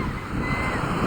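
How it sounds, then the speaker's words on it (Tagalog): Ocean waves breaking near a beach where children are swimming, a brief continuous wash of surf roaring close and fairly loud, with some wind buffeting on the microphone. "Ay kalalaki niyang alon na yan."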